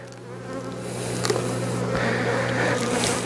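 Bees buzz steadily in an opened hive colony during winter feeding, a dense close drone that swells slightly louder partway through.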